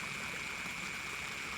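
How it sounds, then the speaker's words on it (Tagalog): Strong stream current rushing after rain at a countryside campsite in Norzagaray, Bulacan, a steady broadband wash of flowing water with no pauses and no voices. "Ayan yung agos ng tubig oh. Dahil umulan kaya lumakas yung agos."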